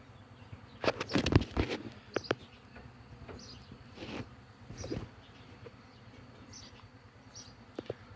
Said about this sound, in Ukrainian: Це або рій первак, або два рої